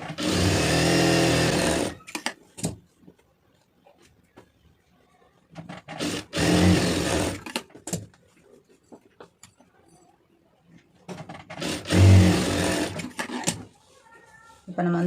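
A sewing machine stitching a blouse lining seam runs in three short loud bursts of rapid mechanical whirring, close by, separated by quieter handling noises, with someone speaking between the runs.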